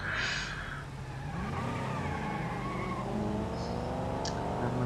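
A stock car in the BeamNG.drive video game racing hard with no radiator, its engine roaring and revving continuously as tires squeal and skid, loud and steady throughout.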